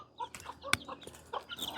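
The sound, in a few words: chicken clucking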